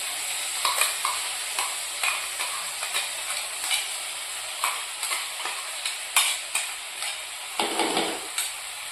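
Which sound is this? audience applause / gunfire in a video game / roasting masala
roasting masala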